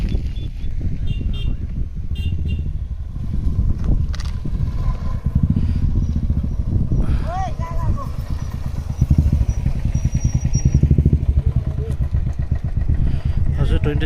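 Motorcycles and other vehicles rev and idle at a busy hilltop viewpoint near Kalimpong on Republic Day, with engines rumbling nearby and passing throughout while people talk in the background.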